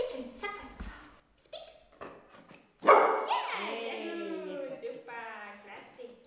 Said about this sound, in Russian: Пес также должен учиться лаять по команде.